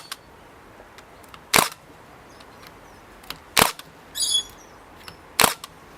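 A Makita 18V DST630 narrow crown stapler fires staples in three sharp, loud snaps spaced about two seconds apart, with a brief whirring burst between the second and third shots; no voices.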